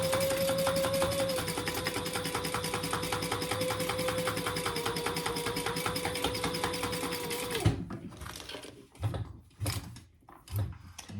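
A sewing machine runs steadily while top stitching, a fast, even mechanical whir that stops suddenly, followed by a few handling clicks and bumps.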